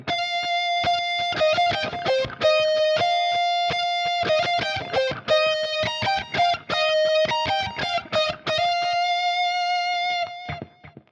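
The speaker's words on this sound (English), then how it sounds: "First up, we have our synth lead." A bright synth lead tone from a Fractal guitar modeler plays a quick rhythmic melody, with clipped, distorted notes and a short echo, ending on a held tone that fades.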